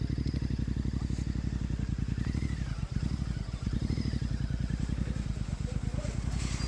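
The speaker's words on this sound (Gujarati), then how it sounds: "તો પછી અમે બાઇક લઈને નીકળી ગયા ઘરે જવા." A motorcycle rides home at a steady pace, its engine thrumming close and continuous with a rapid, even pulse. Wind and road noise sit over the engine, with one or two brief bumps.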